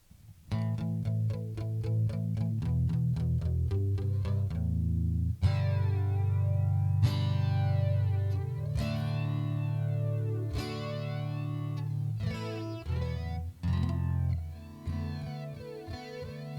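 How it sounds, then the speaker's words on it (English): Acoustic guitar played through a Boss Katana Mk2 amp with a flanger effect, strummed chords and picked notes sweeping with a whooshing, swirling modulation, loud and continuous with no talk. "A flanger with an acoustic."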